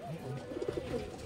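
Punjabi Madrasi pigeons in a loft give soft, low cooing, a few rounded pulses rising in the middle of the stretch, close by and fairly quiet.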